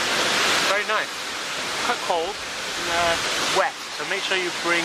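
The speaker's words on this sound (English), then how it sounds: "We're now at the waterfall." A waterfall in Iceland gives a steady, broad roar of rushing water that fills the whole clip, with people talking over it at close range.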